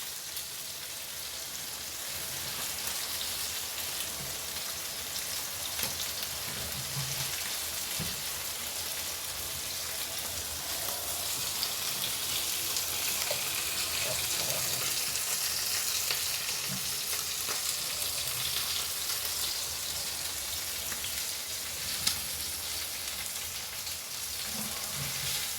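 Onions fry with lamb chops in a pan, giving a steady crackling sizzle that runs the whole time at moderate loudness, with occasional stirring and no talking.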